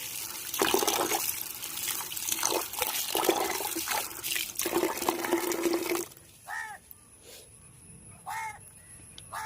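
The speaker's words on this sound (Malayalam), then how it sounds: "തക്കാളിയൊക്കെ ഒന്ന് വെള്ളത്തിലിട്ട് കഴുകി" Water splashes and sloshes continuously for several seconds as tomatoes are washed, then stops, leaving quieter surroundings with a few crow caws nearby.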